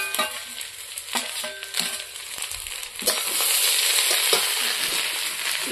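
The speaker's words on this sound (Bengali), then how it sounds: "এখন আমি ভালো করে নেড়ে নিব" Fried potatoes and eggplant are stirred in a cooking pan, with scraping strokes and crackling sizzle that grows steadier and louder halfway through, no talking.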